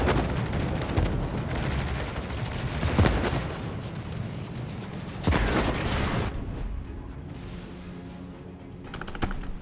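Torpedo explosions in a naval video game, heavy booms rumbling over constant engine and sea noise, with a couple of louder bursts standing out before the din thins out near the end.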